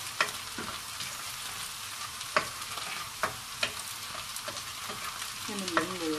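Shallots fry in a pan for Thai olive fried rice, giving a soft, even sizzle with repeated sharp taps and scrapes from stirring. The sound is fairly quiet and close, and nobody talks.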